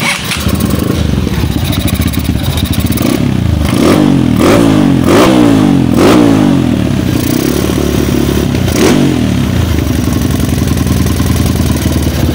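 Kawasaki KLX 150 motorcycle engine running loud and close with an untuned carburetor and a noisy gas valve, a steady rough idle broken by several quick revving bursts in the middle, with no talking.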